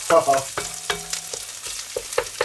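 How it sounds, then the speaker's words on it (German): Vegetables with tomato paste sear and sizzle in a Dutch oven, with irregular stirring scrapes and clunks over a steady frying hiss. "Dann schmoren wir das jetzt alles nochmal schön an."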